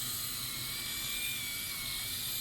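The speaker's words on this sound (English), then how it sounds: "I hear it really grinding away" A close, steady high-pitched mechanical whir with a buzzing, grinding edge from an electric head shaver runs continuously without pause.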